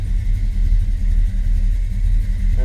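A 1967 Chevrolet Bel Air engine runs close by with a steady, deep, loud rumble and a slight uneven pulse.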